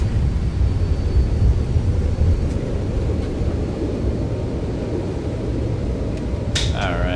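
Airliner thrust reversers roaring during a landing rollout in the X-Plane 12 simulator, a broad, steady low rumble that fades slowly, with brief electronic tones near the end.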